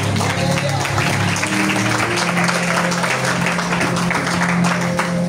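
Church congregation applauding during a sermon, dense continuous clapping from a large crowd filling the whole stretch, loud and close, with voices and a low sustained tone mixed in.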